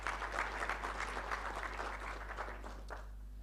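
Audience applause at a mobile app launch event, a steady wash of many hands clapping from a crowd in a hall that fades out near the end.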